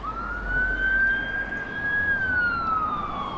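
Emergency vehicle siren wailing along a Toronto street, a single rising and falling tone heard over traffic noise from a moving bicycle, no talk.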